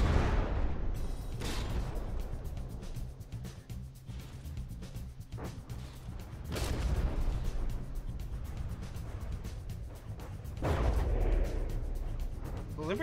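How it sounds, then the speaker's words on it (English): Naval guns on warships in a From the Depths tournament battle, heavy booming blasts and rumbling impacts in irregular bursts, loud and near, with a commentator talking over them. "The Liberty or Death's guns seem pretty potent too."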